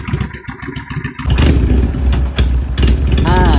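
A VN800 motorcycle engine idles with a throbbing, uneven rumble, then kicks up louder and runs roughly, close by and loud.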